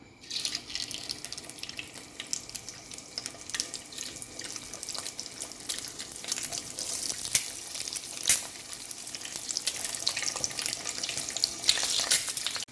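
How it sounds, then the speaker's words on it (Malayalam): Peeled boiled eggs fry in hot oil in a pan, giving a steady, close sizzle with bright hissing and a few sharper pops, and no talking. "പുഴുങ്ങി വെച്ചിരുന്ന മുട്ട ഞാൻ തൊലി കളഞ്ഞ് എടുത്തിട്ടുണ്ട് ഇത് നമുക്ക് ഇതിലോട്ട് ഇങ്ങനെ ഒന്ന് ഫ്രൈ ചെയ്തെടുക്കാം"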